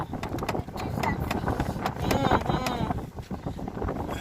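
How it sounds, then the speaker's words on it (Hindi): Cold wind gusting outdoors, buffeting the microphone with rough, uneven rumbling bursts that rise and fall, with people talking over it. "उफ कितनी ठंडी हवा चल रही है"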